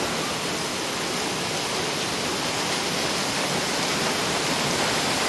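Heavy southwest monsoon downpour in Taguig, a dense, loud, unbroken hiss of rain close by with no voices.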